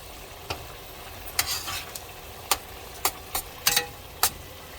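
Curry cooking on high heat for a Phagwah celebration meal, giving a low steady sizzle in the background with several sharp clicks and taps of a spoon against the pot scattered throughout.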